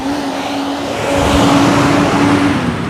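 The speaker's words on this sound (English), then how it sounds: "Wow, their trucks out here are so loud." Heavy trucks roar past on a road near Dockside Inn and Suites by International Drive, a loud continuous engine drone that swells midway as a vehicle passes close by.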